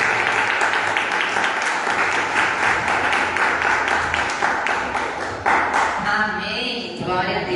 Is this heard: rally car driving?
no